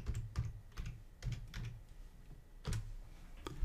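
Keys clack on a computer keyboard as a search is typed in a web browser, a quick irregular run of close, fairly soft taps with short pauses between bursts.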